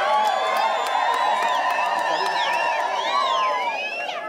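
Guests at a Catholic church wedding cheering and ululating, a continuous dense crowd of high whoops and trilling voices that fades slightly at the end.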